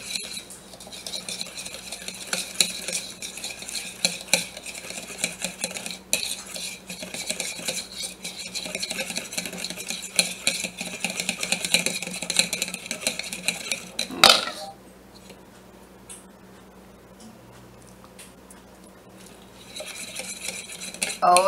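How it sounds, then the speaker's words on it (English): Liquid smoke marinade stirred in a bowl with a utensil, continuous close clinking and scraping against the sides for about fourteen seconds, then a sharp knock and quiet, with scraping returning briefly at the end. "now let's give that a stir and let's see how this looks"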